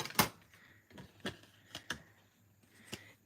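A die cutting machine cuts a paper circle, giving a series of faint, close clicks and clacks spaced irregularly over a few seconds in an otherwise quiet room.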